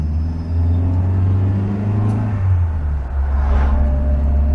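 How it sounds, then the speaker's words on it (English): A 1965 Singer Vogue Series III with a twin choke carburetor pulls away on the road, its engine a loud, steady low rumble that rises slightly as it accelerates, heard from inside the car with no talking. "Boy, you can really hear the lusty pull of that twin choke carburetor"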